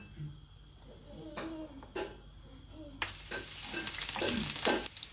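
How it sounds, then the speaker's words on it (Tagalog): Vegetables and chicken for pansit sauté in oil, a close sizzle that swells after a few seconds, with stirring scrapes and a voice talking over it. "Isutay muna natin yung gulay. Tsaka yung chicken."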